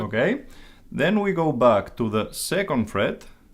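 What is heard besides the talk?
No distinct noise like a dog, phone or traffic.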